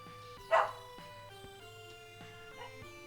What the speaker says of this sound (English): I'm gonna wait for my dog to calm down so she doesn't, like, jump scare me